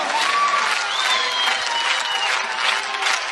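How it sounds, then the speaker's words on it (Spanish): A live cumbia concert crowd claps steadily along with the band, dense rhythmic applause filling the whole stretch with crowd noise underneath. "todo el mundo con las palmas arriba"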